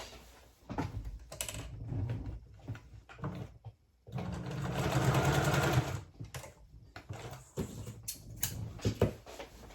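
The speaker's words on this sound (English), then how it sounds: "And you're also gonna stitch this area to secure." A sewing machine stitches a man's front trouser pocket, close and fairly quiet, with short clattering bursts, a sustained two-second run of stitching, and small handling knocks in between.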